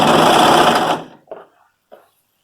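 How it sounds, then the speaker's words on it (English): A sewing machine stitches the front of a DIY sweater, a loud, close, steady mechanical whir that stops abruptly after a second, followed by two brief clicks of handling. "Okay, so now we're sewing the body's front."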